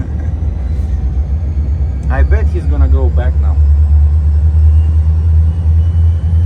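A two-axle truck idles some distance off, giving a constant deep engine rumble that runs beneath a man's speech.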